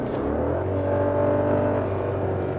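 A 2008 Audi S8 D3 with a Lamborghini-derived V10 driving in sport mode, its engine holding a steady, close, droning note with rich layered harmonics and no voices.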